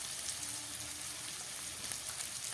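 Green chillies frying in hot oil, a steady, dense sizzle with soft crackle that holds evenly throughout without any voices.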